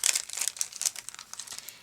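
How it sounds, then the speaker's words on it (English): Crinkly washi tape for scrapbook pages is handled up close, giving a rapid series of light, crisp rustles and small crackles that gradually thin out. No voices. "I wanted to bring in the matching washi tape"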